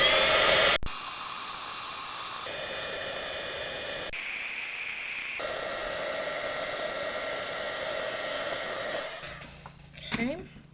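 A heat tool melts embossing powder on a card, blowing a continuous loud whirring hiss with a steady fan tone that shifts slightly in pitch, then cuts off with a few handling clicks at the end.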